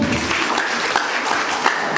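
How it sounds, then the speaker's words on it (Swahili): A church launching event's crowd claps for the singers, dense continuous applause throughout, close and loud with no speech over it. "Pigieni waimbaji makofi"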